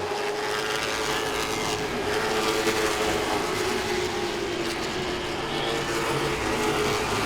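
Late model stock cars race around Langley Speedway, a dense, continuous engine roar with rising and falling pitch as the pack circulates, loud and steady without talk.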